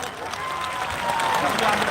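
An audience at a political gathering clapping to welcome party officials, a dense, steady burst of applause with crowd noise, brief and fairly loud.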